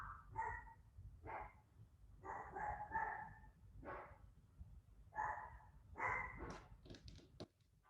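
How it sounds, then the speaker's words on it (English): Dogs bark in a series of short, moderately loud bursts at irregular intervals, with a faint whimper or yip near the end, over a low background hum. "my dogs are barking"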